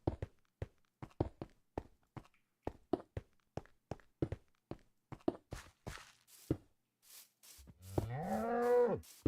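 A cow in the Minecraft video game gives one drawn-out, wavering moo near the end, after a run of sharp blocky footsteps and taps.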